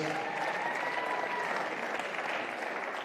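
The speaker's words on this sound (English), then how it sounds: "A big round of applause to Frans Otten Stadion for hosting us" Sustained audience applause at a squash league event at Frans Otten Stadion, an even, dense clapping that holds steady for about three seconds with no voices over it.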